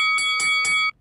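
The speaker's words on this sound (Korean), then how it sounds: "권투할 때 종소리가 나냐?" A boxing-style bell rings three quick, evenly spaced times, bright and metallic with a sustained ringing tone, then cuts off abruptly into silence.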